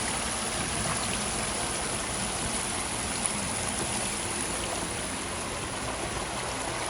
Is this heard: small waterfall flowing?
yes